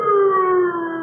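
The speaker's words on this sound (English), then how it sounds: "The sound of the sirens howled in his ears like the wail of an avenging demon" Wailing sirens in an old radio drama sound effect, a sustained, loud, steady howl with layered tones that holds throughout and eases slightly near the end.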